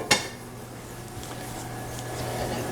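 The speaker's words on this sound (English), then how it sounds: "the lid goes back on" A lid is set back onto a bread baking pot holding gluten-free artisan dough, making one sharp metallic clank at the start. A faint steady background hum follows.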